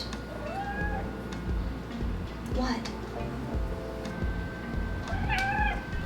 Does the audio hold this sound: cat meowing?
yes